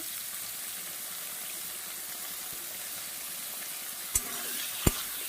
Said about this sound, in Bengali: অফ ক্যামেরায় আমি চিংড়ি মাছটা ভেজে নিচ্ছি